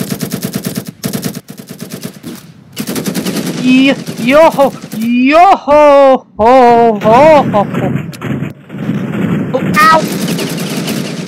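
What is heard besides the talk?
gunfire being shot at in the video game Ravenfield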